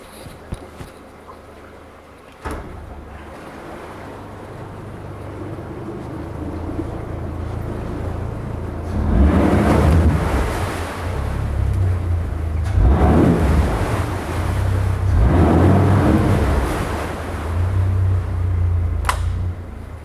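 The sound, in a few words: Yamaha 115hp VMAX SHO outboard boat motor running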